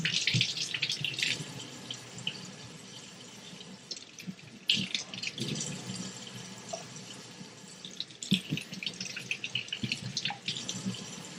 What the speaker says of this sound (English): So I'm going to rinse these off.